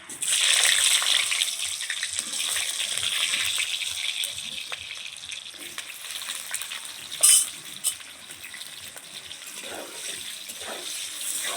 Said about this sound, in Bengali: এখন আমি আলুগুলো লাল লাল করে ভেজে নেব।